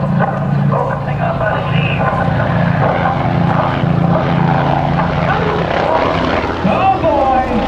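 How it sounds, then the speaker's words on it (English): A Red Bull helicopter performing at the Blue Angels homecoming airshow, its steady rotor and engine drone loud and continuous throughout, with crowd noise and an announcer's voice mixed in. "there it is, ladies and gentlemen, the Red Bull helicopter"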